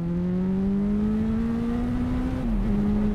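A Suzuki B-King motorcycle accelerates hard, its loud engine note climbing steadily in pitch, then dipping briefly at a gear shift before pulling on.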